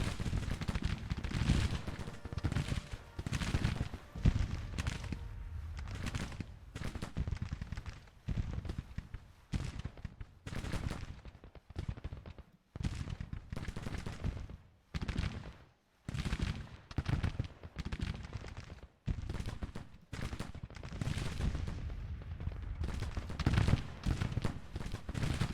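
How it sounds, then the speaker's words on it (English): Musket volleys crackle across a Civil War battlefield in Grand Tactician: The Civil War, fairly faint and distant, arriving as repeated irregular bursts of massed rifle fire over the whole stretch. "Need these mainline volleys going out."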